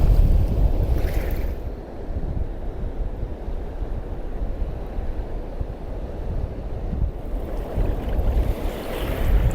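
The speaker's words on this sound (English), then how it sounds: "It's a wild day to be on a wild river." A fast UK barbel river on a wild, windy day: heavy low wind buffeting on the microphone over a constant rushing of water, loud and unbroken throughout, with no voices.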